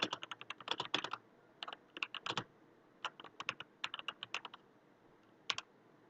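Quick bursts of typing on a computer keyboard, clusters of close, crisp keystrokes separated by short pauses, quiet and alone.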